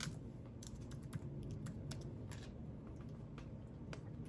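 Quiet, steady clatter of keys on a computer keyboard, a run of irregular rapid taps close up with no voices.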